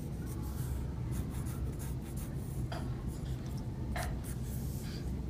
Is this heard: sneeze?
no